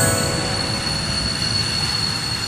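A cartoon train moves along in a steady, loud mechanical rumble, with a high metallic whine or squeal held over it throughout and no voices.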